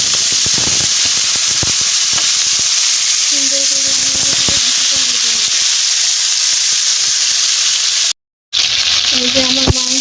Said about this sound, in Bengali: আমি কড়াইয়ে প্রথমে তেলটা চাপাই দিব, দিয়ে চিকেনটা ভেজে নেব।